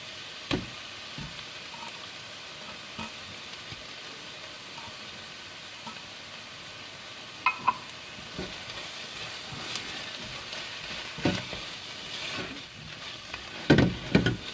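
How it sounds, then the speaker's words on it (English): Tomato paste frying with onions and garlic in a pan makes a soft, continuous sizzle, with occasional sharp knocks and clicks from stirring. "We are gonna cook the tomato paste together with the onions and the garlic so that it will slightly caramelize"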